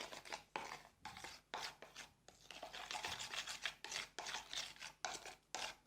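Spices and salt being rubbed and mixed by hand into tuna meat with oil, black and red pepper and turmeric, a close rhythmic scraping and squishing in short repeated strokes, no talking.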